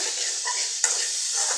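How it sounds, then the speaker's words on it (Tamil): Steady loud sizzling of chopped onions frying in a pan, with a single brief clatter partway through. "இது கூட ஒரு கிண்ணம் பொடியாக நறுக்கின பெரிய வெங்காயத்தை சேர்த்துருக்கேன்."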